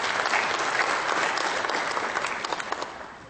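Audience applause following a speech on economic growth in sub-Saharan Africa, a steady dense wash of many clapping hands from a large crowd, holding loud throughout before easing slightly at the end.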